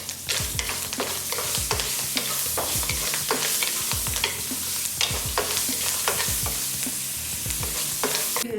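Curry leaves crackle and sizzle in hot oil for tamarind rice, with repeated bursts of spattering and a spoon stirring through the pan, busy and close for several seconds.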